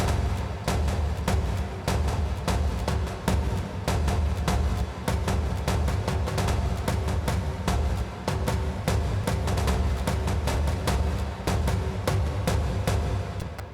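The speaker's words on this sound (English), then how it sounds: "some kind of basic orchestral drums pattern" Orchestral drum loop from an Ableton Push, a steady pattern of sharp, evenly spaced hits over a dense low rumble, looping loudly for the full stretch.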